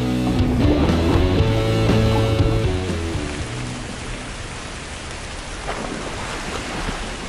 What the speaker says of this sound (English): I think this counts as pouring rain.